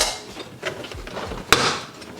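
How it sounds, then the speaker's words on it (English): A plastic tab popping out in the engine bay of a 2020-2024 MK5 Toyota Supra with the 3.0 B58 engine during an intake install: a single sharp close snap stands out amid faint handling clicks and rustles. "you're gonna need to now pop out this plastic tab"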